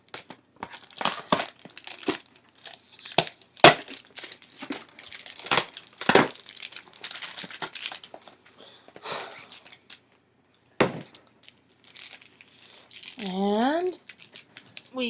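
Taped packaging of a Sailor Moon wedding doll set being pulled open, with close crinkling, crumpling and sharp tearing bursts in uneven spurts, and a voice talking toward the end.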